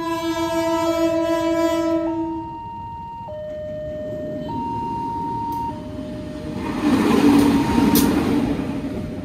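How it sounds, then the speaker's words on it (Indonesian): Logawa passenger train locomotive shunting at Surabaya Gubeng station, sounding a long multi-tone horn in shifting pitches over a rumbling engine, with a louder swell of track and engine noise later on. "Nah, ini dia lokomotif Logawa langsir setelah tiba."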